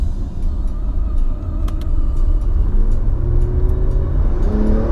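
A 1989 Nissan Skyline sedan with about 130 horsepower pulls hard with its power mode on, the engine note rising steadily over heavy low rumble and road noise, close and loud.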